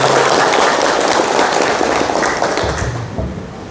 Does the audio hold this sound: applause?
yes